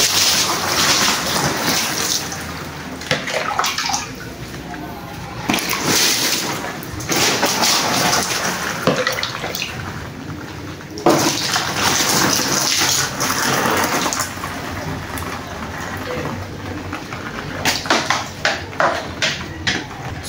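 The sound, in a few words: water poured onto a waterproof motorcycle cover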